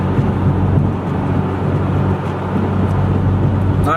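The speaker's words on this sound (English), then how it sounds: "this is all you're hearing is wind noise and the car" A BMW 335i with a muffler delete cruises on the highway, giving a steady low engine and road rumble blended with constant wind noise from inside the cabin. There is no talk.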